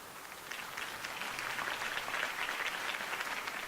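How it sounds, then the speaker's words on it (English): A crowd applauds a campaign speech in a Batman adventure video game, a faint, steady wash of clapping held at an even level throughout. "If only Mr. Wayne, my campaign's largest backer, could have heard that applause"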